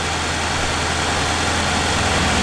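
A 1967 Oldsmobile 442 convertible idles with its engine running on the choke, a steady, close, low rumble with an even hum that holds unchanged throughout.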